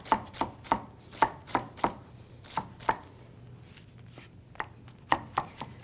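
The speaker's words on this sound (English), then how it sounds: "So we'll go ahead and cut it up again and get ready. But you do want to cut it up really small." Fresh herbs are chopped finely with a knife on a cutting board, a quick series of crisp, rhythmic thuds close up, pausing briefly midway before resuming, with no speech.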